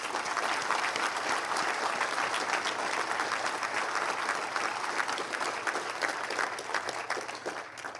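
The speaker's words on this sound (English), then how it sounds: "So let's give them yet one more round of applause." Sustained audience applause at a medical school white coat ceremony, dense steady clapping from a large crowd lasting the whole stretch, with no voices over it.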